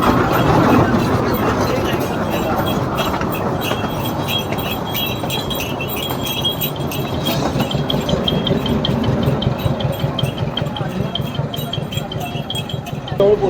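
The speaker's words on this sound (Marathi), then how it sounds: "टॉय ट्रेन आलेली आहे. मिनी ट्रेन बोलतात तिला." A toy mini train on Elephanta Island near Mumbai rumbles and rattles along its track, a continuous close clatter with rhythmic wheel clicks throughout.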